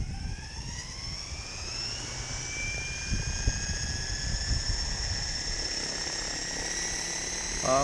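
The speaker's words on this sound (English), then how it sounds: "we can move the helicopter out here." An Align 700 electric RC helicopter runs steadily close by, a whining high-pitched tone with a rising pitch sweep over a constant rotor rush, alone with no talking.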